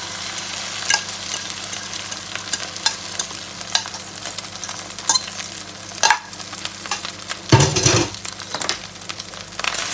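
Egg and Thai fermented pork (nham) fry in a pan for fried rice, a steady sizzle broken by scraping stirs and one louder clatter near the end, with no voices.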